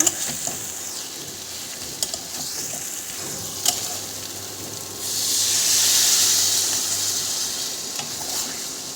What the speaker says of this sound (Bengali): এবার আমি একটু হালকা জল দেবো গ্রেভির জন্য